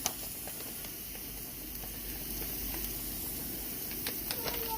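Flour hitting hot oil in a pan for a roux gives a steady soft sizzle and hiss with a few faint clinks of stirring, heard on its own.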